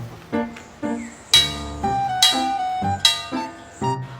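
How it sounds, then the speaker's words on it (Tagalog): A bell struck several times at an uneven pace, each clang ringing on with overlapping metallic tones; fairly loud, with no voices. "Ang lakas pa naman ng tunog ng kampana na yan."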